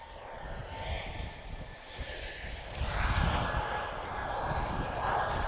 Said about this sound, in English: She's taxiing already, guys. And she should come right in front of us here.